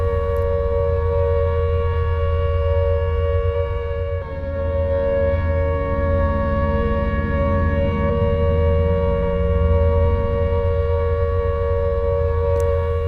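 A civil defense air raid siren wails over wartime Barcelona, a loud sustained steady tone with layered harmonics that barely wavers, droning continuously and alone for the whole stretch.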